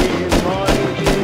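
Gunfire in a Counter-Strike match, several sharp bursts at a steady rhythm about every third of a second, loud and close over game background noise.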